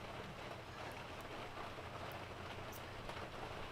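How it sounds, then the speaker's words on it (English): Steady rain falls outdoors, a dense even hiss of drops on a surface lasting throughout, with no voices. "it's raining"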